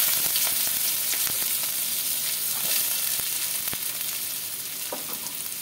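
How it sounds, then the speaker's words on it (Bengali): Chopped onion sizzling in hot oil in a pan, a steady loud frying hiss with occasional sharp pops and stirring scrapes, no talk. "পেঁয়াজটা একটু লাল লাল করে ভাজবো"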